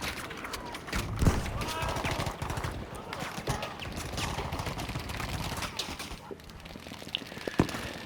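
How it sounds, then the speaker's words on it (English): Machine gun fire in the Battlefield V jungle level on the Solomon Islands map comes in rapid bursts amid busy battle noise, with talking over it. "That's an MG."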